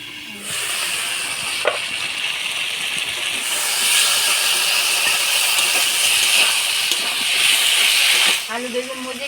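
Potatoes and eggplant with chili paste and spices hiss and sizzle loudly and steadily in a pan after water is added, a broad continuous steamy sizzle that swells midway, with a voice briefly at the end.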